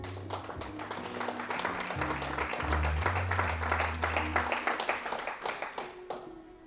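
A church congregation applauds the Lord during a French-language sermon, dense sustained clapping from many hands with cheering voices mixed in, rising then tapering under a held organ or keyboard chord.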